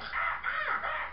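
A cartoon bird squawks in harsh, crow-like caws, loud and close, in two rising-and-falling bursts with no talk over them.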